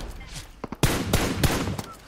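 Gunfire from a multiplayer shooter video game, with several loud bursts and shots echoing in quick succession while players talk over the action.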